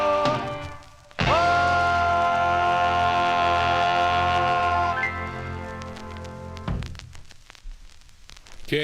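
A 1955 doo-wop record on a 45 on Imperial ends with sustained harmonized vocal chords and a final swelling note before fading into quiet room tone.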